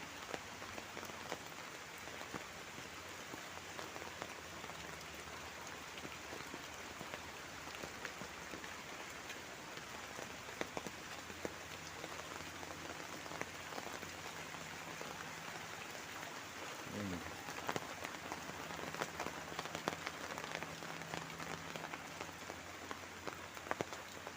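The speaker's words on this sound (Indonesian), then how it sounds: "Nah, hujannya sudah agak reda." Steady rain falls over a village, a dense even hiss of drops on surfaces with scattered patters, continuous and fairly soft throughout.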